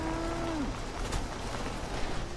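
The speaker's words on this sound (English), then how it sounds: "I guess we're not allowed to kill these cows." Cattle mooing in the video game Fallout 76, a single drawn-out moo that falls at the end, heard alone over soft game ambience.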